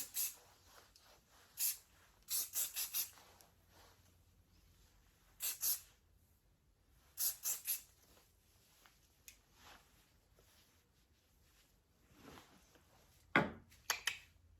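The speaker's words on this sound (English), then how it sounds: "just going to put a wee bit of hairspray in there" Hairspray misted onto a styled 80s-inspired flick in several short hissing bursts, some in quick clusters, close to the microphone against a quiet room.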